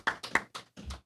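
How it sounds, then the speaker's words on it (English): A few scattered hand claps, roughly four or five distinct smacks in about a second, close and fairly quiet, welcoming a sheriff's deputy guest on a small podcast. "Applause for Deputy Klein."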